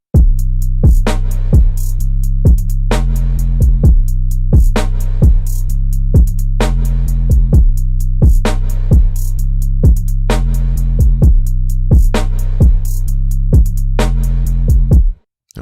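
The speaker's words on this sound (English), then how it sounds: "here's what the drums sound like all together" Dark piano trap beat drums built in FL Studio play together in a steady looping pattern: booming sub-bass kicks, sharp snares and quick rolling hi-hats, loud and continuous with no voices.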